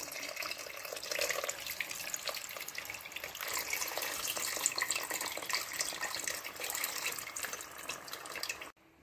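Water pours steadily into a pan of tamarind gravy with pomfret fish and jackfruit seeds, a continuous close splashing and gurgling that runs for several seconds before stopping abruptly.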